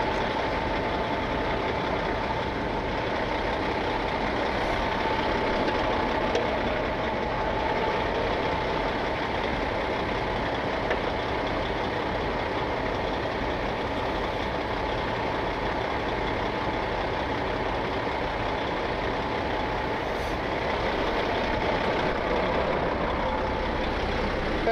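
A heavy 85,000-pound truck's diesel engine runs steadily as it works to pull out of deep mud, a loud, continuous low rumble that holds close and unbroken with no talk over it.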